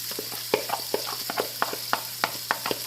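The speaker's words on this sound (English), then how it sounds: "And let that egg go ahead on and fry." An egg fries in a pan beside peppers, giving a steady close sizzle broken by regular sharp clicks and taps.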